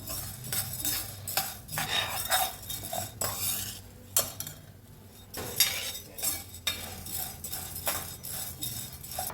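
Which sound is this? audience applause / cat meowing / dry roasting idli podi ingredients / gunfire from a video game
dry roasting idli podi ingredients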